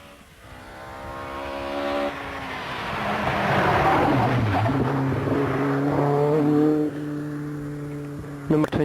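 A 1984 rally car rounds a turn on a stage. The engine note climbs steadily through the gears as it passes close by, then fades with a lingering hum and a brief clatter at the end. A commentator talks over it.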